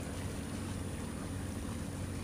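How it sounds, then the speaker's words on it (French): A sailboat motoring under engine along the Sardinian and Corsican coast, giving a steady, unbroken low engine drone with a wash of water and wind noise over it, close and constant throughout with no voices. "Bon alors là on fait route au moteur"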